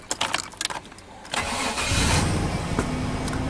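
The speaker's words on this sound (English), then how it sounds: "Starts and runs every time now." GM truck engine starting with a few clicks and the quick whir of the starter, then catching and settling into a steady, fairly loud idle close by, with no talking.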